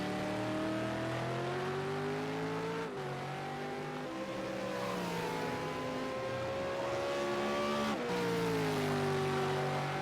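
V8 Supercar engines in Project Cars 2 at Ruapuna Park roar continuously, a steady high rev that climbs through the gears with brief drops at each shift, loud and without any talk.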